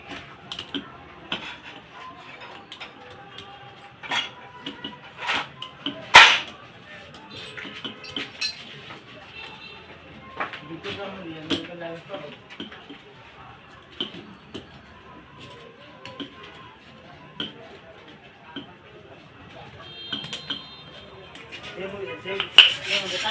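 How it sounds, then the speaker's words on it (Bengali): Piston rings come off a 12 hp engine with scattered light metallic clinks and taps, sharp and close, against a quiet workshop background, with one louder clatter partway through. "এখন কিন্তু আবার রিংগুলো তুলে নিচ্ছি।"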